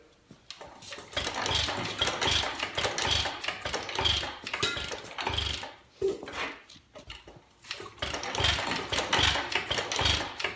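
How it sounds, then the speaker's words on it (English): A 1-1/2 HP Lauson Frost King Jr. engine being hand-cranked with a starting handle: repeated rhythmic mechanical churning and clattering in long close bursts, broken by a short pause, without catching. "we're going to try to start this engine"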